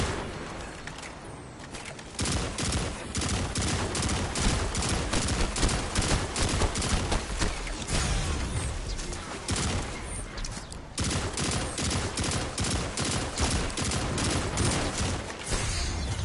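Rapid bursts of gunfire in the video game Destiny 2: Final Shape, dense and loud, with short lulls near the start and middle before the shooting resumes.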